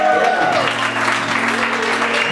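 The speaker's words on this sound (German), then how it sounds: "Applaus." Audience applause greets a guitarist joining a club band on stage, a steady wash of clapping sustained throughout with crowd noise and some voices over it.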